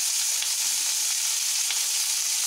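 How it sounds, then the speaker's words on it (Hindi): Cauliflower florets deep-frying in a kadhai until reddish, giving a steady, close, even sizzling hiss that holds without a break and with no voices. "बहुत लाल करके हमें फ्राई करना है।"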